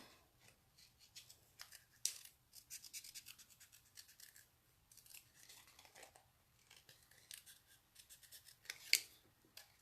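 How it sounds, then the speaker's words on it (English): Scissors snip through paper to cut out leaf shapes for a handmade card set, with soft intermittent blade closes and paper rustles close by, and a few sharper snips standing out. "Just going to cut these leaves out."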